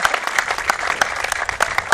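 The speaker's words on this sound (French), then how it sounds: "on peut applaudir." A TV studio audience applauds in a quick burst of sharp, dense hand claps, close and lively, lasting a couple of seconds.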